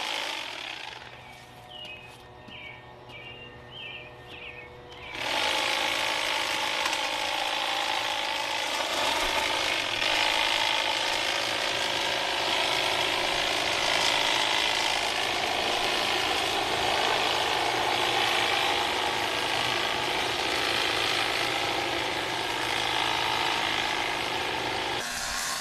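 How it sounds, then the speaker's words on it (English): A Toro 60V cordless hedge trimmer starts after a few seconds of faint clicks, then runs in a loud, continuous buzzing drone while cutting weeping tree branches, close and steady for over twenty seconds. "It makes it so much easier just to walk along and just trim all these weeping branches"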